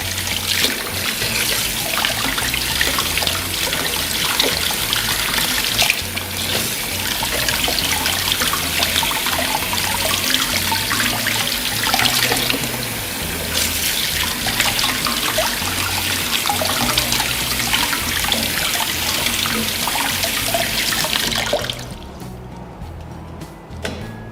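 Nam Dok Mai mangoes rinsed under a running tap: water gushes and splashes steadily and closely for about twenty seconds, then cuts off.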